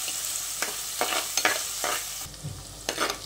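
Onion and crushed garlic sautéing in a pan, a close sizzle broken by several brisk stirring scrapes of a spoon, each a short sweep, with no one speaking.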